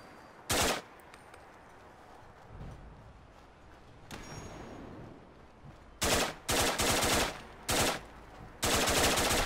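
Player gunshots in Fallout 4 ring out as sharp, loud reports: a lone shot early, a quieter stretch of game ambience, then a quick series of blasts and a closing rapid burst; no talking.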